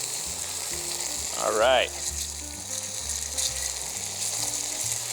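Bologna frying in a pan for a breakfast sandwich, with a steady close sizzle running throughout under background music and a brief voice.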